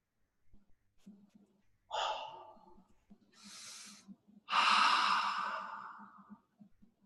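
Breathing during a group breathing exercise: a few loud, close sighing exhales and an airy inhale, spaced out, over a faint low background hum.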